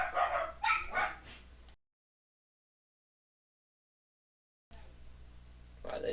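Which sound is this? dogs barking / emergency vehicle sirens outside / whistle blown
dogs barking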